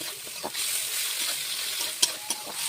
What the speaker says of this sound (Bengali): পেঁয়াজটা হালকা ভাজা হয়ে গেছে, এবার আমি টমেটোটা দিয়ে দিচ্ছি